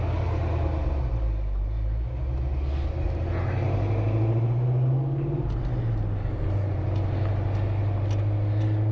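A 1968 Pontiac GTO convertible pulls away with its top down, the deep engine rumble rising steadily as the car moves off, close and loud with no talking.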